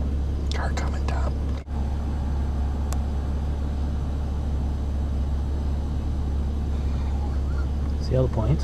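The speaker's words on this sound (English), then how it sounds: "Car coming, Tom." A car approaches along a road near a whitetail deer hunting spot, a steady low rumble under quiet whispered talk.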